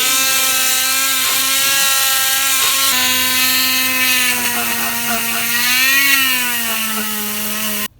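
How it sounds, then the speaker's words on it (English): A Dremel rotary tool whines steadily at high speed while cleaning out a hole in a carbon fibre Ibis Mojo HD3 mountain bike frame, close and loud, the pitch wavering slightly as it bites, then stopping abruptly. "the first step is we're going to clean out that hole with the Dremel"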